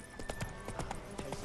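Roach the horse gallops in The Witcher 3: Wild Hunt, with rhythmic clip-clopping hoofbeats, steady and moderately close, over a faint game ambience.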